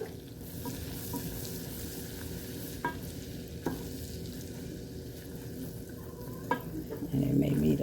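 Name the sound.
stirring flour roux for homemade gravy in pan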